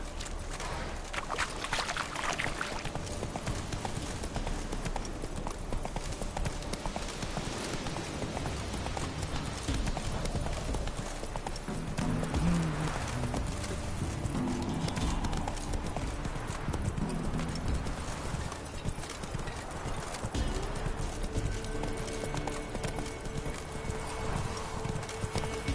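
Roach, a horse in The Witcher 3: Wild Hunt, gallops with steady rhythmic clip-clop hoofbeats throughout, sitting close and prominent over a dense game ambience, with a brief whinny-like sound mixed in.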